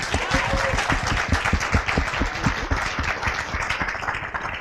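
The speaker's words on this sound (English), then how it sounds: "A warm applause for Catrin." Warm audience applause for a guest at a casting panel open house: loud, close, dense clapping with distinct individual claps audible throughout, sustained for several seconds.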